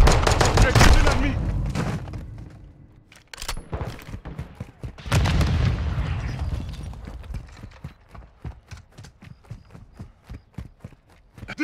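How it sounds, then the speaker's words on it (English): Bursts of gunfire from a Call of Duty: Modern Warfare II match, dense rapid volleys then scattered shots and clatter, loud and close, with shouted voices in places. "They're shooting at me!"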